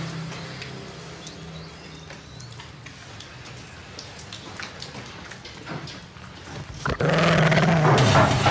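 Dog growling amid steady falling rain, low and fairly quiet at first, then erupting into a loud, close, rasping snarl over the final seconds.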